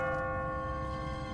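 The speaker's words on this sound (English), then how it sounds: "What kind of church bell goes off at 20 past the hour?" A church bell tolls in The Walking Dead video game, Season 1 Episode 4, an automatic bell ringing on a timer in an abandoned city; steady sustained ringing tones, loud and alone with no talk.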